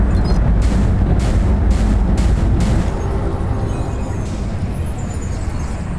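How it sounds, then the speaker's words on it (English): Deep, heavy booms of mines exploding after enemies are destroyed in the space shooter Everspace 2, with several sharp blasts early on and then a sustained rumbling roar. "Enemies drop mine when destroyed"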